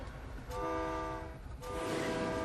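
A train horn blows in two long, loud blasts over the low rumble of rail traffic.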